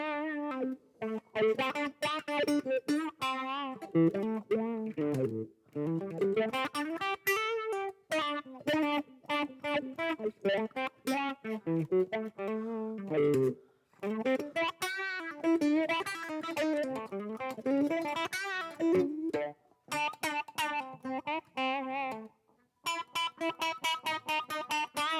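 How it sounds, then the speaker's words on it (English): Electric guitar played through a wah pedal, its sweeping filtered tone rising and falling over a busy run of melodic notes, loud and close, with short pauses between phrases and no talking. "And that is how the wah sounds, so wah-ish."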